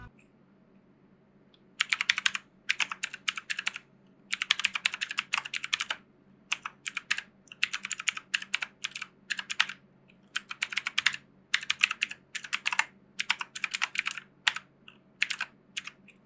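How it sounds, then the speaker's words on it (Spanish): Fast bursts of clicky typing on an ACGAM 109R mechanical keyboard, close and crisp, in rapid clusters separated by short quiet pauses over a faint low hum. "Dejo sus oídos deleitarse con el sonido de estos switches."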